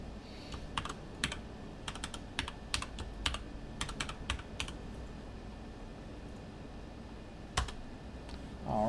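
Someone types a password on a computer keyboard in quick, uneven bursts of close, crisp key clicks with short pauses, ending in a firmer keystroke.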